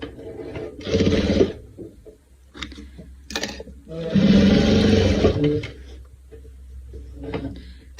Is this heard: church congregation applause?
no